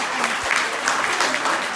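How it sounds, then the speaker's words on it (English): Audience applause at a corporate event, a dense even wash of clapping for under two seconds, moderately loud with no clear individual claps standing out. "Clap, clap."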